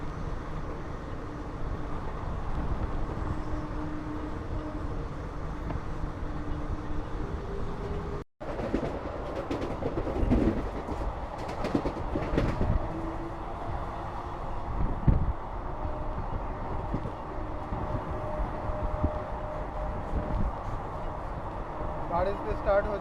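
Kanchanjunga Express passenger train running flat out at about 110 km/h in heavy rain, a steady rumbling rail roar with wheel clatter and a brief dropout, with people talking over it throughout.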